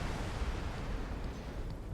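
A video game explosion from blowing away Xenon ships: a loud, sustained low rumbling roar with dense crackling that fills the whole stretch without letup and swells again at the end.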